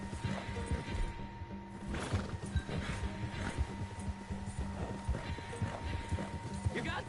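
Horse hooves clop at a gallop in the video game Red Dead Redemption 2, a steady rhythmic beat under game music and voices talking.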